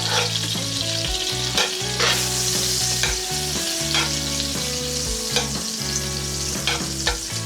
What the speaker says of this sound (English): So let your butter melt down.